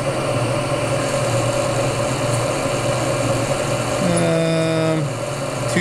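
A Clausing variable-speed drill press runs steadily at about 250 RPM, giving a constant motor hum and whir. Near the end a brief tonal shift is heard as the pulley speed changes.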